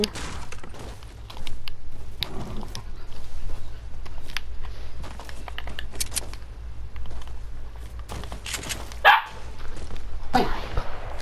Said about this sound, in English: My dog's just being pure mental right now.